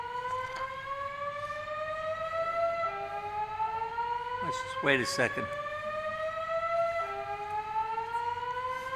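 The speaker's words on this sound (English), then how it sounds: "Fire alarm." A fire alarm sounds in a Supreme Court courtroom during oral argument, a steady wailing tone that slides between pitches and keeps repeating, while a person speaks briefly over it.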